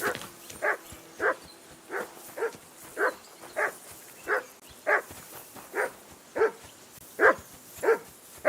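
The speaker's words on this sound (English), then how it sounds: "call off that mutt of yours." A dog barks in Kingdom Come: Deliverance, a rhythmic series of about a dozen evenly spaced, moderately loud barks at close range.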